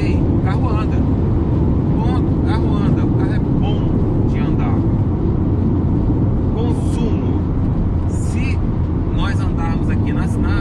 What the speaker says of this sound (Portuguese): reduzi uma marcha, eu acelerei, o carro anda